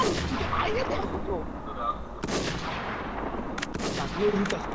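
Loud gunfire in the online survival shooter Warz, with repeated shots and bursts cracking over a steady noisy game background, while voices talk faintly underneath.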